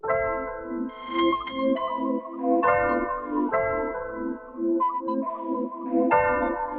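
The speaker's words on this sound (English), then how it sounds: "So I found this piano and yeah, I just copied the exact same chords." Piano chords ring out one after another, each struck note sustaining with bright overtones in a slow, steady progression.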